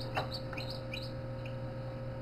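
Newly hatched chicks in a Little Giant incubator give high, thin peeps in quick bursts. The peeps are faint and sit over a steady humming fan and motor drone.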